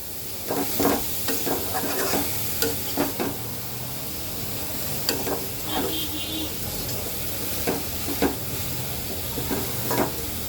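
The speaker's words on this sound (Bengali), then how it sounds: "এবার আমি সব কিছু একসাথে সুন্দর করে মিক্সড করে দেব" Cabbage mixture stirred in a pan over low heat for a vegetarian dish, with a spoon scraping in a steady run of scrapes and clacks above a constant sizzling hiss, close by.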